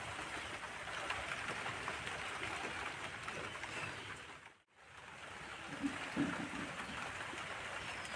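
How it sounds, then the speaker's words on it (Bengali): Rain falling during monsoon season outdoors near a cooking spot, a steady soft hiss throughout, faint and even, briefly cutting out midway before resuming, with no voices. "এদিকে মেঘে বৃষ্টি পড়তেও লেগেছে।"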